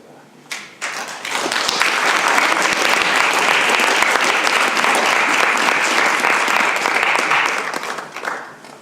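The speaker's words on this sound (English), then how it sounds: "That was just an excuse to get an applause break." Loud, sustained applause from an audience at a poetry chapbook launch, a dense wash of clapping that swells quickly, holds steady for several seconds and then tapers off.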